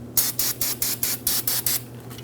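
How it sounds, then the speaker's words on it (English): Parts cleaner sprayed onto a brake rotor mating surface on a 2007-2014 GMC Sierra 2500 HD in eight quick, even hissing bursts, close and steady, with no talk. "For that, we can use a wire brush and some parts cleaner as necessary"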